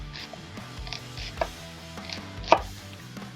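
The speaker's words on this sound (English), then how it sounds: "I'm going to chop this onion into small" A knife chops a large sweet onion on a cutting board, a string of quick, close, crisp thuds in an uneven rhythm with one louder strike, no voices.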